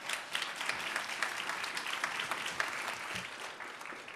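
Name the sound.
applause for the United We Walk committee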